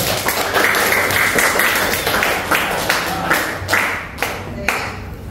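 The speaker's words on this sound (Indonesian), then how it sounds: "Berikan tepuk tangan dulu" A class of students claps in a steady patter for several seconds, with a few sharper individual claps standing out near the end.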